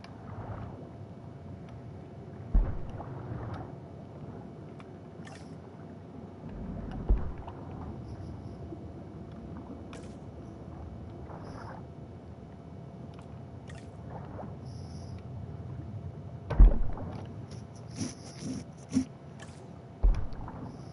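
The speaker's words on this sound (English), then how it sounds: "I want to hear my water ASMR" Gentle water ambience with boats in the Jurassic World Evolution 2 video game, a steady low wash with faint sloshes and occasional soft splashes, heard alone without speech.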